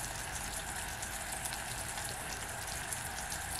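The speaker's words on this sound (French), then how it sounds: "Alors on entend les bulles qui commencent à" Caramel bubbles and sizzles in a pan as it cooks, a steady, close, crackling fizz of small popping bubbles throughout, with no talking.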